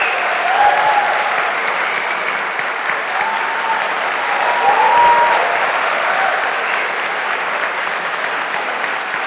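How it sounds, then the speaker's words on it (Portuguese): An audience at a literary festival debate on democracy applauds the writer Inácio de Loyola Brandão, a sustained, loud, even roar of clapping hands with faint voices briefly rising above it. "acrescentar uma salva de palmas a Inácio de Loyola Brandão"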